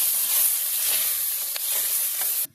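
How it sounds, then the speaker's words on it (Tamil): Steady, close sizzling of green chillies and capsicum frying in hot oil, a constant bright hiss with faint crackles, cutting off abruptly at the end. "பச்சை மிளகா ஆயிலில் கொஞ்சம் லைட்டாக ஃப்ரை ஆகட்டும்."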